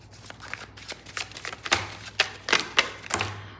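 Tarot cards being shuffled and laid out during a reading, a run of close, crisp papery flicks and snaps coming in uneven bursts with no talk over them.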